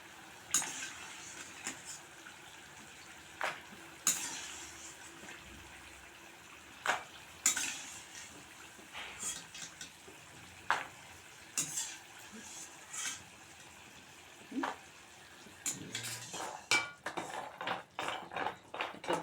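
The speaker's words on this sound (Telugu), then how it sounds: "పాకం హీట్ చేసుకొని వేసుకుంటే మంచిగా పట్టుతుంది గవ్వలకి." Gavvalu being stirred through hot jaggery syrup in a pan, with soft scraping, clinking and gentle sizzling in irregular bursts, close and fairly quiet, no talk.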